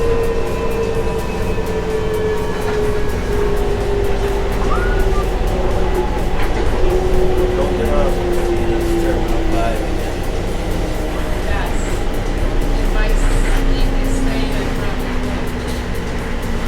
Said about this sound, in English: This train is approaching Terminal 5.